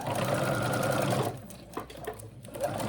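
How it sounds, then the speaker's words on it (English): A sewing machine stitches tape onto the bodice of a doll dress, running a loud steady whir for just over a second before stopping, followed by softer handling clicks and a brief restart. "I'm going to sew around that tape to attach it on to my bodice"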